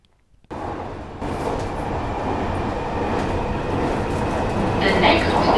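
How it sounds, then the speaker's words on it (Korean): A London Underground train roars loudly from inside the carriage, a sudden onset of dense rumbling and rattling wheel noise that holds steady, with a high metallic squeal rising near the end. "지하철 소리도 굉장히 크고요. 소음도 굉장히 크고 제가 녹음을 했죠."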